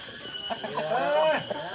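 A chicken near a coop gives a close, loud burst of clucking with a rising and falling squawk lasting under two seconds.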